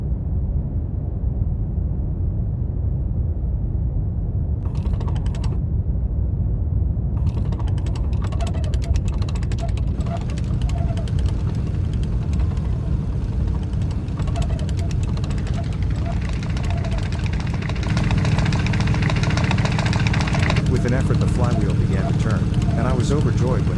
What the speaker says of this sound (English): I inserted the handle at the side of the engine and began to turn it forward with both hands